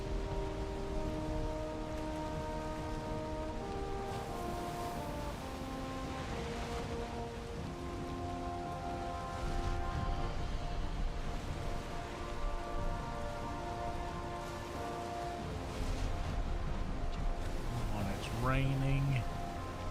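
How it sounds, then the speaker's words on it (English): Steady rain at night on the open ocean in the Valheim video game, a constant soft patter of raindrops under layered music tones, with someone talking over it. "Raining. It's night. I'm in the ocean."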